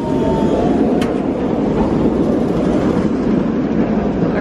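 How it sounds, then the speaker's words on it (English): A tram rolls along a street in Rome, Italy, giving a loud, steady rumble of wheels on rails with a brief metallic squeal, close by and continuous throughout, with no voices. "you've also got the tram that runs right through here"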